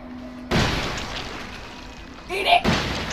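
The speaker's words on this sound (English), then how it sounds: "Shotgun, please!" Shotgun blasts in the horror game Resident Evil 7: Biohazard, played in PSVR: two loud, booming shots with a sharp attack, one near the start and one near the end, with a short rumbling tail and some shouting around them.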